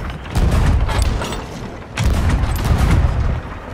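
Cannon fire during a ship battle in the Sea of Thieves arena game, with two heavy booming bursts a couple of seconds apart over a rumbling, continuous low roar.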